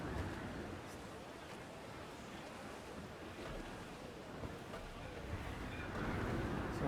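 Stormy sea in the game Assassin's Creed IV: Black Flag: a steady roar of crashing waves and gusting wind around a sailing ship, broad and rushing, swelling slightly louder toward the end.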